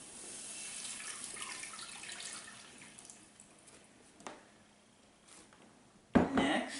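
Milk and light cream pour into a cooking pot in a steady, soft liquid stream, with a brief clatter near the end.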